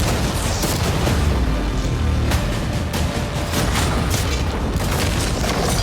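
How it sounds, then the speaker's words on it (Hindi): Cannons firing at a yacht, a dense, loud barrage of deep booms and blasts rolling on without pause, close and overwhelming, with no clear voices. "अब हम तुम्हारी नई यॉट पर कैनन्स को शूट करने वाले हैं।"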